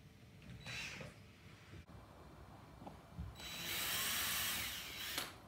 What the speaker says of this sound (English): Drill all those holes.